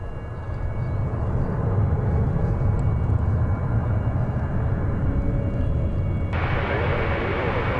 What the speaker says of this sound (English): This is the 737-800. It's American Flight 1770.